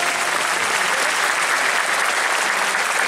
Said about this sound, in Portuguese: Vamos aplaudir os levitas.